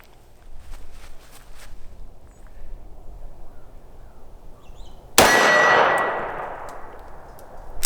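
A single loud revolver shot from a Smith & Wesson 686+ Deluxe with a 3-inch barrel, fired in single action at a target, bursting out after quiet outdoor ambience and ringing away over a couple of seconds.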